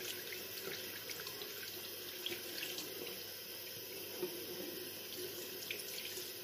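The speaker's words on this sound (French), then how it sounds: "me laver les mains. Avec l'eau froide, avec l'eau chaude" Tap water runs steadily into a sink as hands are washed under it during a shave, a close, continuous rush with light splashing and occasional small knocks.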